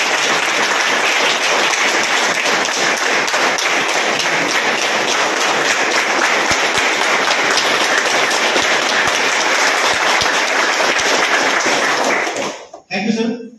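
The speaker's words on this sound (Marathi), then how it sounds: "जर टाळ्या वाजवून मला गरमी दाखवा द्या." Audience at an indoor training program in Satara claps continuously for about twelve seconds, a dense, loud, even patter of many hands that stops abruptly, followed by a brief voice.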